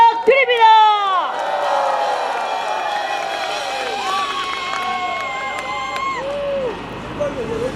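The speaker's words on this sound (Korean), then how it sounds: "큰 박수 부탁드립니다" A large crowd at a national emergency prayer rally cheers and applauds, with high whoops and whistling shouts over a steady roar of clapping and voices, loud and sustained throughout.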